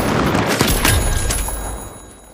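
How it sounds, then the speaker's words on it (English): A frag grenade going off in a first-person shooter game, a loud close blast with a short crackling burst of debris, fading into a decaying rumble over about two seconds. "Frag grenade out!"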